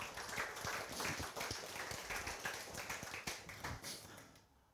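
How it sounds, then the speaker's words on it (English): A church congregation gives a clap offering to God during a sermon, with steady, fairly distant crowd clapping running throughout before fading out at the end. "Can we give a clap offering sa ating Diyos?"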